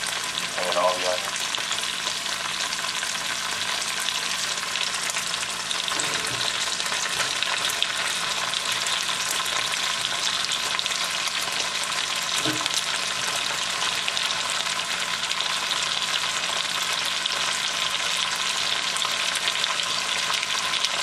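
Snow peas and onions stir-frying in a pan for a chicken stir fry give a loud, continuous, close sizzle that stays steady throughout, with a few faint knocks and clinks from the pan; no talking.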